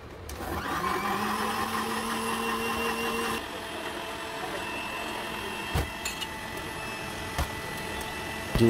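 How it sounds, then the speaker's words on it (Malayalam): A kitchen mixer grinder whirs steadily as it blends mango juice at a Kalpathy juice stall, a loud continuous motor drone that eases after a few seconds, with a few clunks and knocks toward the end. "ജ്യൂസ് മിക്സിയിൽ അടിച്ച് റെഡിയാകുമ്പോഴേക്കും"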